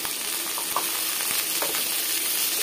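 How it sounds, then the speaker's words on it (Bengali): Chopped onion frying in a pan for a duck curry with coconut, a dense continuous sizzle with light stirring clicks up close. "পেঁয়াজগুলো আমি নেড়ে চেড়ে ব্রাউন কালারের মতো করে ভেজে নেব"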